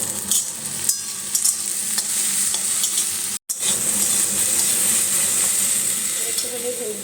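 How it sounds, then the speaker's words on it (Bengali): Sliced okra fries in a pan with a steady, bright sizzle throughout, a brief dropout in the middle, and faint stirring clinks under the hiss. "আর এদিকে ভেন্ডি ভাজাটা হোক।"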